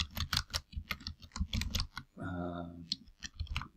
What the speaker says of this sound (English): I'm just going to type something in here random.